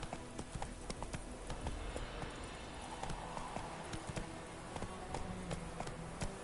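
Roach, a horse in The Witcher 3, gallops under a rider, sending out a steady, rapid clip-clop of hooves at close range. The pace stays even across the clip, and no voice is heard over it.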